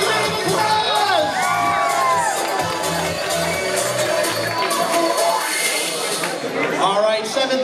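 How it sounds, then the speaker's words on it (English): A nightclub crowd at a charity event cheers, whoops and shouts loudly throughout, high excited voices layered over a dense roar, with a brief dip before another burst of yelling. "Give them one last round of applause!"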